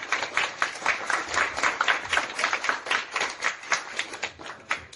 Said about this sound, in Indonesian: Tepuk tangan, meriah.